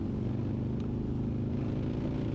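A bagger racing motorcycle at full throttle down the Sonoma Raceway straight gives a steady, dense engine drone and wind roar heard from the rider's position, with no talking.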